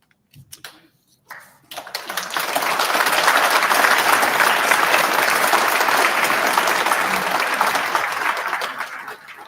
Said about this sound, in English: I knew if I waited long enough, I'd guilt them into an applause